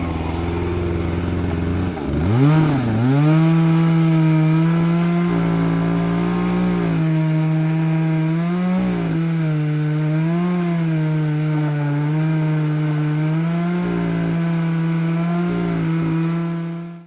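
A gas chainsaw cuts brush for firewood, running steadily and loud up close. The engine bogs and revs in repeated swells as it works through the wood, holding a constant drone throughout before cutting off at the end.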